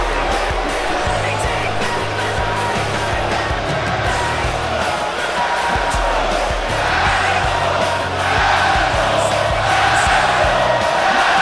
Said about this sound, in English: What an ovation for the Avenger as he makes his way to the ring here to some Blackstone Cherry.